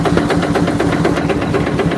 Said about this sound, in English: It's a 1919 advanced Rumley steam engine.